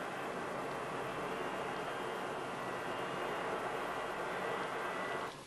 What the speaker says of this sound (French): Mais l'avion ne va pas tarder à décoller.